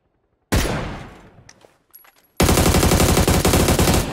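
Automatic gunfire in PUBG on the Haven map: a sudden loud burst that rings out and fades, a few scattered faint shots, then a sustained rapid, close-range stream of fire until the end, with no talking.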